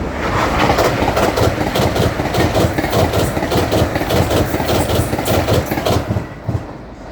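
A train rolls into Doncaster station with loud, rhythmic clickety-clack from wheels over rail joints and a rumbling engine underneath, fading slightly at the end.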